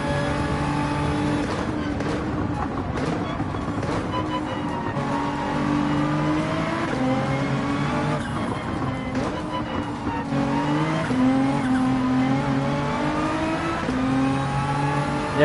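Race car in Gran Turismo 7 video game, engine howling loudly and continuously with repeated upshifts and downshifts, rising and falling revs, and occasional tyre squeal through corners.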